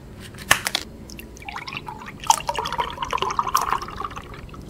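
A pink lychee and peach drink is poured into a container close up, liquid splashing and gurgling with scattered drips and small knocks, with no talk.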